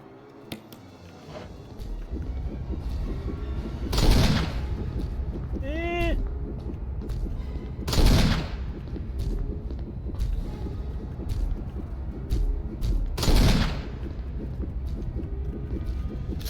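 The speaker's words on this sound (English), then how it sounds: "That was 4 shots with a Magnum." Three or four heavy Magnum revolver shots from the Resident Evil video game, spaced a few seconds apart, each a loud broadband blast over steady low game ambience, with a short rising electronic chime between the first shots.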